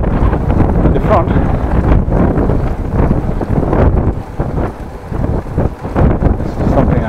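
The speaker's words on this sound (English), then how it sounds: "Oh, this is nice wind in my back" Strong wind buffeting the microphone while cycling along a rural road, a loud continuous roaring rumble with gusty swells throughout.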